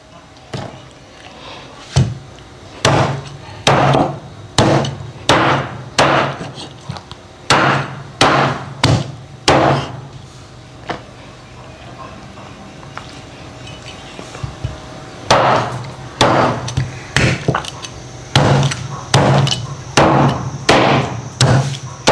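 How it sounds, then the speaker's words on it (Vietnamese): Chicken bones being chopped with a cleaver on a board for pho broth in a home kitchen, loud sharp thuds in rapid bursts of blows separated by short pauses, close up with no talking. "Giờ mình chặt cái xương ra mình nấu còn cho nó ra nước ngọt."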